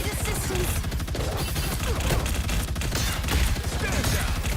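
Rapid turret gunfire from Punisher enemies in a video game, a dense continuous burst of shots rattling loudly throughout under game noise.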